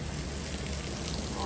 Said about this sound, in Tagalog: Umuulan, mga ante.